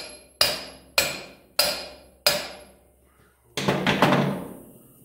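Steel sheet hammered over a round ball on a homemade dimple die: four sharp, ringing metal strikes spaced about half a second apart, each decaying, followed by a heavier, rougher burst of impacts, close and loud.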